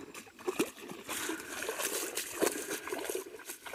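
Water trickles and splashes steadily in a small outdoor stream near a chapel, a close, continuous babble with a few brief louder splashes and no talking.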